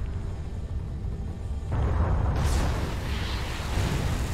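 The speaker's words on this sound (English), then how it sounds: "The explosions are awesome. I really love the explosions in this game." Explosions rumble in the space combat game Everspace, a low, heavy roar that swells suddenly into a louder, sustained blast with crackling debris, with no voice over it.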